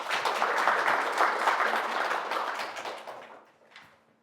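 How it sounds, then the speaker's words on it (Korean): A workshop audience at a nuclear safety regulation event applauds to welcome a speaker, a dense burst of clapping that holds steady and then tapers off within a few seconds. "힘찬 박수로 모시겠습니다"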